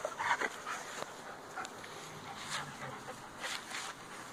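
A puppy whimpers and pants softly close by, with short high whines and breathy bursts scattered over low room noise, while a person's voice is heard faintly.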